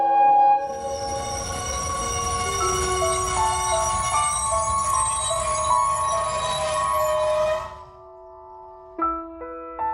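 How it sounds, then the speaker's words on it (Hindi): A train approaching in a dramatised Hindi ghost story sounds loud and continuous, with ringing metallic wheel squeal and rumbling under it before cutting off, followed by faint tonal chimes. "ट्रेन आ रही है जग्गू"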